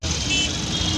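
Road traffic rumbles through heavy rain, with a steady hiss of rainfall over a low, continuous hum of nearby engines in one brief stretch.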